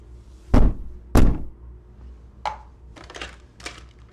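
Someone bangs on a door with two heavy, loud thuds, followed by a few lighter knocks and rattles.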